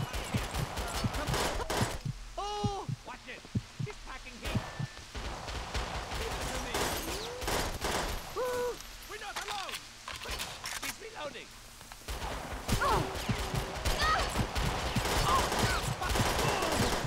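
Shotgun blasts from the Perfect Dark Zero video game ring out as repeated sharp, loud bursts with game sound effects in between, close and prominent.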